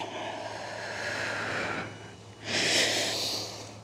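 Heavy breathing during a bodyweight workout: one long breathy exhale, then a brief pause, then a second louder forceful breath out, close to the mic and alone.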